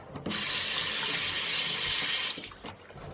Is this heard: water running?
yes